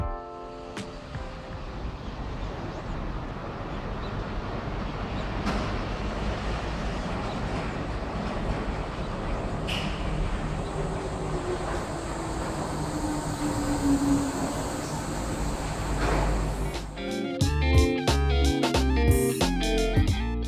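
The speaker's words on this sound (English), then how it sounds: "And here comes the train now." A rubber-tired people mover train in Japan arriving, a long steady rumble building with a faint whine, then sharp rhythmic clunks and rattles near the end as it rolls in close.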